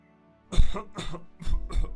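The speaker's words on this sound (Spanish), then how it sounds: "Sebastián tuvo un ligero exceso de tos." Several harsh coughs in two quick bursts, close and fairly loud, with a short pause between the pairs.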